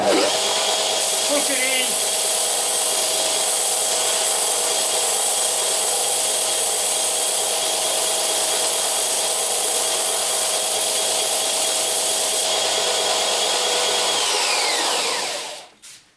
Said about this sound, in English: On comes the sander,